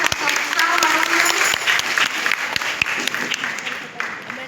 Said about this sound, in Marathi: त्यासाठी सर्व विद्यार्थिनींसाठी जोरदार टाळ्या वाजवूया